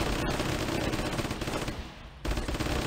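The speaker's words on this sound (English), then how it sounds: "Oh, they have Tommy guns" Tommy gun fire in the Flash war game Warfare 1944 rattles as dense, continuous automatic bursts, loud throughout with a brief lull near the end before the firing picks up again.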